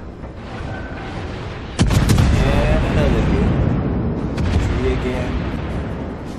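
Rapid naval gunfire from a Cleveland cruiser in World of Warships, a heavy broadband boom kicking in partway through and rolling on as a sustained barrage, loud and close, with someone talking over it.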